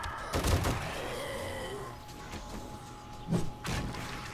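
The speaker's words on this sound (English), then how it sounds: "Still need to keep shooting for now." Gunfire in the 7 Days to Die zombie game, several sharp broadband shots separated by short gaps against a steady rumbling background, moderately loud with no talk.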